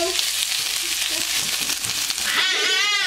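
Oil sizzling in a pan while a vegan burrito filling is cooked, a dense, steady crackling hiss up close that swells slightly toward the end.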